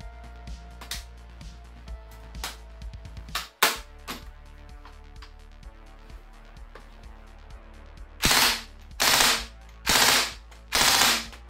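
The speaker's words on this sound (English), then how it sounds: "let's get to shooting, starting with the included Stanag and cassette mags loaded to 100 rounds" A VFC M249 airsoft machine gun fed from a cassette magazine fires a string of rapid bursts, loud and close, with sharp mechanical clatter, the last four bursts long and evenly spaced.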